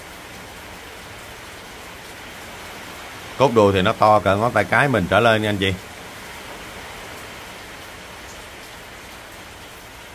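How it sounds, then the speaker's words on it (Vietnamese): Steady rain from a tropical storm hisses throughout, a dense even wash, while someone speaks briefly in the middle. "Do cái thời điểm em đang quay clip thì trời mưa anh chị"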